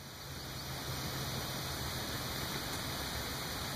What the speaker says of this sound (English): you see that flow of water